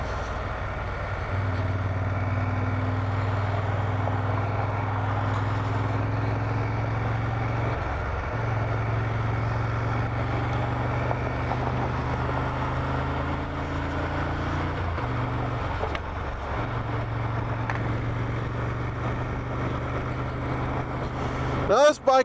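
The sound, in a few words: Moto Guzzi Griso motorcycle idling, stock exhaust pipes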